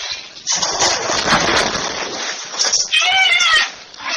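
A pet cat gives a short meow or two near its owner, who talks to it about food, the cries rising briefly over close speech.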